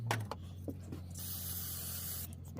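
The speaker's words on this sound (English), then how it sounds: "Spray some of that dust off there." A short hissing burst of spray blows dust off a part of a Coleman Peak 1 222B stove during reassembly, steady for about a second, preceded by a few faint clicks and handling taps.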